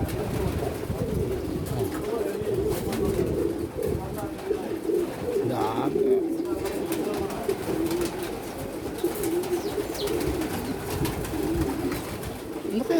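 A large flock of pigeons coos constantly nearby in a dense, overlapping low murmur, with faint flutters and chirps mixed in, while people talk over it.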